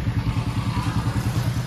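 A Royal Enfield Himalayan motorcycle idling outside a service shop, its steady low thumping exhaust pulse running evenly and loud throughout.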